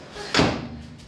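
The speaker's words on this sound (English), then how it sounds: "Okay, shut the door." A microwave door is pushed shut in a kitchen with a single short clunk, close and fairly loud, then a brief quiet tail.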